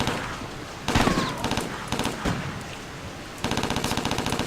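Rapid bursts of automatic gunfire from the video game Hidden and Dangerous, loud and close, with short pauses between volleys and a sustained rattling stream at the end.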